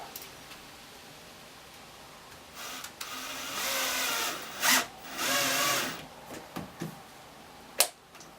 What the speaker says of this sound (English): we're going to be fastening this side using just an 1/2 inch screw and a screw cap